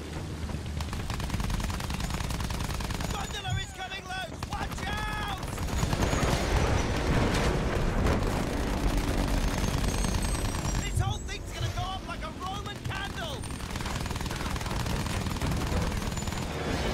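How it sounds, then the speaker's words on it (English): Battlefield 1 combat fills the scene with rapid bursts of gunfire and booming explosions, dense and continuous, with brief whistling and ringing effects mixed in and a player talking over the battle. "Oh, wow, look at those explosions."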